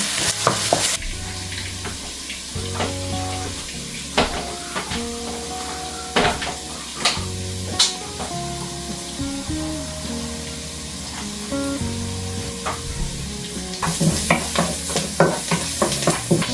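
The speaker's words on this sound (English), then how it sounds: "In a pan, let's put some cooking oil. We're gonna saute onions" Onions and garlic sauté in cooking oil in a pan, giving a steady sizzle and stirring clatter that swell at the start and end, with background music playing throughout.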